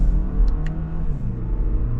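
Engine of a 2023 Lexus RX350 AWD heard from inside the cabin, a low steady rumble with rising harmonic tones as it revs toward about 4,000 RPM.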